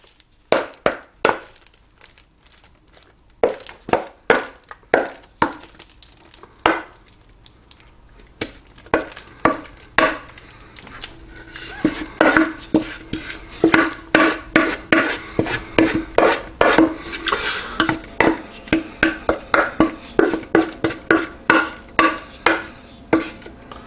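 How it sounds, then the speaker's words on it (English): Thick spinach and artichoke dip being scraped from a mixing bowl into a casserole dish, with a long run of close, loud spoon scrapes and knocks that grow faster and denser toward the end, and no talk. "let's get it in this casserole dish so we can pop it in the oven"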